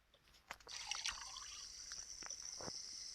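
Drinking water trickles and pours into a container in a quiet indoor room, a soft steady stream with a few small clinks and drips, faint and close.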